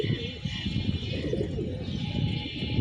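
Young pigeons on a rooftop loft cooing softly and repeatedly, close and low-pitched, a continuous burbling murmur over faint background noise.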